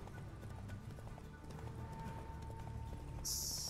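Horse hooves clip-clop steadily in The Witcher 3 open-world game, a continuous rhythmic trot at moderate level that runs the whole stretch, with a brief high tonal game sound near the end.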